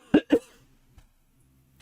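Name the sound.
coughing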